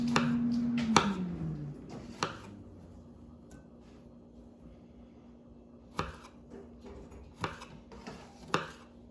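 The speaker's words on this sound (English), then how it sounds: "tomatoes all chopped up" Tomatoes being chopped for homemade guacamole, a series of sharp knife knocks on a board at irregular intervals, several in quick succession, under a faint steady hum.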